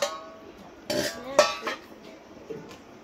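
Plates and bowls are handled in a home kitchen, with a few sharp clinks and clatters of dishware spaced over a few seconds against quiet room background.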